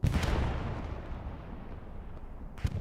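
Self-propelled artillery in the Hell Let Loose video game fires at night: a heavy, booming report opens, then a long rumbling decay and a second, softer thump near the end, with no voices.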